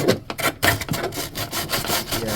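A fiberglass surface is roughed up before epoxy goes on. It comes as short, close, scratchy rubbing strokes in a quick uneven rhythm, and no one speaks.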